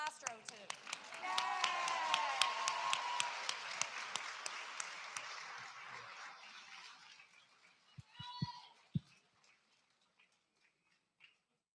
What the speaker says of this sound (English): We got to cheer for the last row, too.